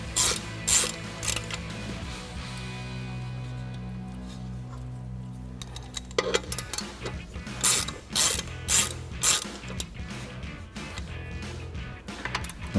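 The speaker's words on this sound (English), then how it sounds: "now we can grab our 17mm socket to tighten these down" Ratchet fitted with a 17mm socket tightening brake caliper bolts during a brake rotor and pad install: long runs of rapid clicking pawl strokes, close and steady, with brief pauses between pulls.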